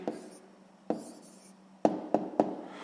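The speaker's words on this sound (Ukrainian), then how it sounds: "Записуємо відповідь." An answer to a sixth-grade math exercise written by hand, a pen scratching softly on paper, then several short sharp taps as strokes or dots are made, close and quiet in a still room.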